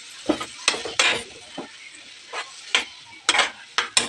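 Cooked brinjal (baingan bharta) being stirred into peas in a pan, with repeated short scraping, clinking strokes of a spoon against the metal at an irregular rhythm, close and moderately loud, with no voices.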